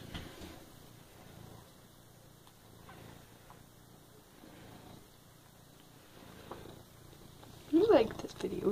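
A soft, steady cat purr rumbles close by, with a brief louder sound near the end.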